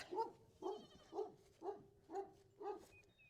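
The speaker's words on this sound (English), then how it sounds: "Pretty sure he's barking at the kitty cats." A dog on a farm barks at cats in a regular series of six sharp barks, evenly spaced about half a second apart, moderately distant and alone.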